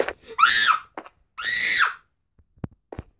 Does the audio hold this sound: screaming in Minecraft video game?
yes